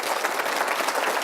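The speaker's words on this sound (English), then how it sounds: "hold your applause" Brief burst of steady audience applause at a city update event, a dense even wash of clapping from a large crowd.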